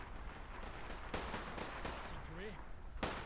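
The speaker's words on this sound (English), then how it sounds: "Somebody's shooting again." Gunfire in Fallout 4 with the Fallout London mod: several sharp shots crack at irregular intervals, moderately loud, over game ambience, and a short rising synthetic tone follows midway.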